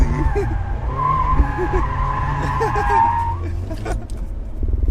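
Tires on a 2024 Mazda Miata breaking loose and skidding, with a sustained loud tire squeal over a close engine drone for several seconds. A person speaks briefly over it.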